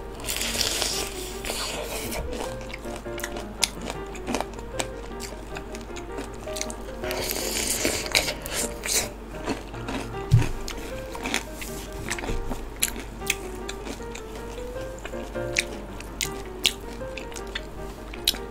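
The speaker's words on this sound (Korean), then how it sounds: "뼈 씹는 소리입니다" Crunchy chicken bone chewing up close, with irregular sharp cracks and wet crunches scattered over a continuous stretch of eating sounds.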